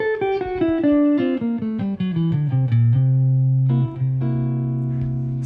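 A guitar plays a Mixolydian sharp 11 scale run over a dominant chord, a stepwise descending line of clear sustained notes ending on held low tones, loud and alone with no talk.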